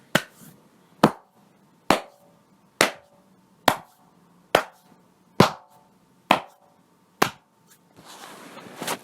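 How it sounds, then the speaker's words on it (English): Crowd clapping at a wrestling event, heard as about ten sharp, evenly spaced claps with clean decays, followed by a short burst of dense noisy applause at the end. "Hope you could tell that was clapping."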